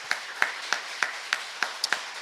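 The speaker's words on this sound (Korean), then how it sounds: "우리 그 가정에게 박수 한번 드리십시다." Church congregation clapping during a Sunday worship service, a steady rhythmic beat of about eight sharp claps evenly spaced, moderately close and without talk.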